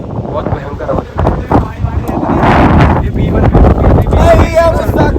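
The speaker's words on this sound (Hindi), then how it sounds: "देखो भाई हवा चल रही है" Very strong, fierce wind blowing outdoors, buffeting the microphone with loud, continuous rumbling gusts that swell and build throughout, while a person talks over it.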